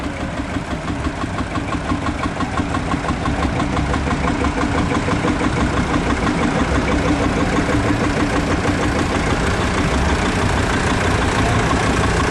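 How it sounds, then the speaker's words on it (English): A big old Massey Harris tractor engine runs at a vintage show, a steady, loud, even chugging idle that continues unchanged throughout. "Big old powerful Massey Harris there"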